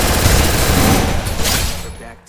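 A grenade explosion and gunfire from the Free Fire battle royale game in a solo-versus-squad match. Dense, loud, booming bursts of shots run continuously for about two seconds before cutting off abruptly.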